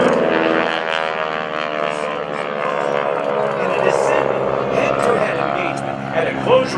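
Propeller aircraft of the GEICO Skytypers team roar overhead at a military airshow open house, a loud, sustained droning engine tone that swells slightly near the end. A public address announcer talks over it.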